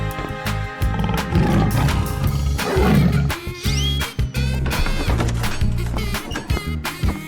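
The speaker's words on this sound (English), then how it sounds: "Tiger." A tiger roars loudly and repeatedly in rolling, sustained bursts, close and alone, with no talk over it.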